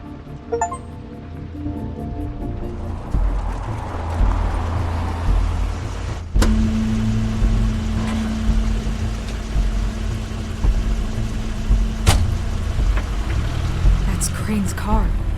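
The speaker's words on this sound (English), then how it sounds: "That's Crane's car." A car in the video game The Wolf Among Us idles with a steady low engine rumble under rain, with door thumps and short clunks along the way.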